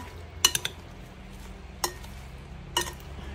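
A leftover chicken and liempo salad being mixed in a bowl, with a few bright clinks of utensil against dish spaced out over quiet background, close by and without talking.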